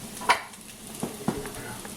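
Onions fry in a pan during a family breakfast at home, a continuous close sizzle broken by a few sharp clinks and scrapes as they are stirred.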